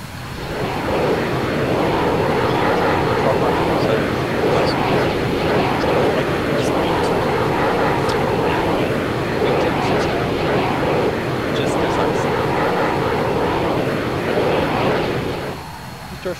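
Aircraft engine drones loudly and steadily as an airplane taxis on an airfield in a flight simulator game, a constant near roar throughout with faint voices underneath.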